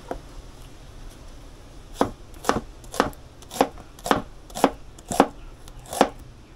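Knife chopping onion outdoors in Jamaica: eight sharp, evenly spaced cuts on a board, close and loud, with quieter gaps between strikes and no talking.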